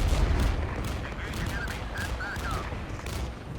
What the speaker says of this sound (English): Time for double A-10 cluster strike.